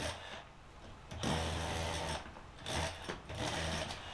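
A DeWalt cordless chisel chases a channel out of a wall, a dense rattling hammer chatter that runs steadily with slight surges in intensity, close and continuous.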